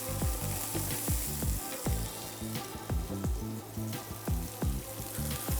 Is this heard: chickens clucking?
no